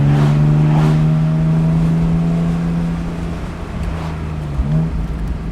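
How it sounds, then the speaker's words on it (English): Porsche 718 Boxster 25 Years flat-six engine holding a steady droning note, then dropping away and blipping briefly as the driver heel-toes down into second gear. "let's take it out of sport mode just once to see what it's like to heel toe into second gear in this car"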